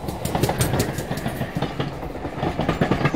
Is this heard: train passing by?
yes